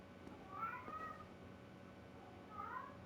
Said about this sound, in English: There goes my cat hollering again.